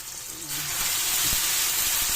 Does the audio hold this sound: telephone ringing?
no